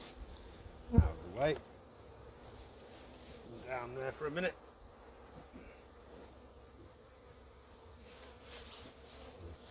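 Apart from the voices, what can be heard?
honey bees buzzing around hive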